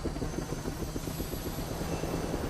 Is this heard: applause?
no